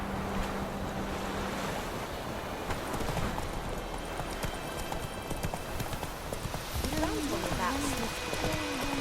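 A horse's hooves clip-clop at a steady riding pace in The Witcher 3: Wild Hunt on the road to White Orchard, over wind and surf-like ambience, with voices talking alongside.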